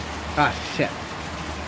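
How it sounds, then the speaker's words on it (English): Heavy torrential rain pours down as a steady, dense hiss beneath a brief exclamation from a nearby voice. "it's just very heavy rain. That's a torrential downpour and a half."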